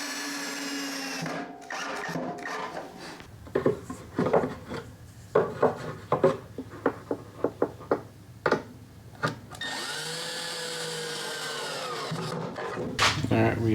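A power drill drives screws into the wooden sides of a small planter box in short whirring bursts, separated by pauses with knocks and handling of the wood, close and fairly loud.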